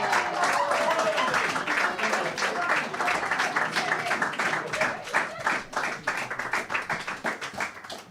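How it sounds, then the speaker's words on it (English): A live audience claps to welcome folk performers Paul Hutchinson, Karen Wimhurst and Hannah Cumming onto a stage. The applause is dense and sustained, then thins toward the end into more distinct, separate claps. "Can you just keep clapping a minute?"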